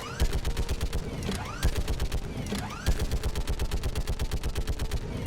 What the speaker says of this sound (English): Now it's my turn to have the big gun thing.